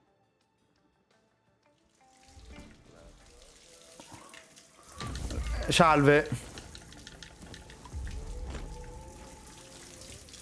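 Water runs from a tap in the stealth game Hitman 3, a steady splashing stream that swells loudly mid-clip, with someone speaking briefly over it.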